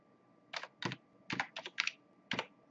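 Keys on a computer keyboard are typed in short, irregular bursts of soft clicks, faint and close, with no one talking.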